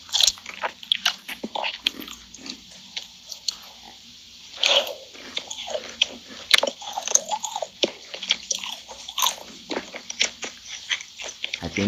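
Crunchy chocolate bitten and chewed up close for ASMR: sharp, crackling bites followed by wet, squishy chewing in an uneven rhythm, loud and close.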